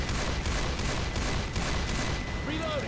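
Rapid gunfire with heavy recoil from a gun in Left 4 Dead 2, a dense, loud continuous burst, with a voice speaking over part of it.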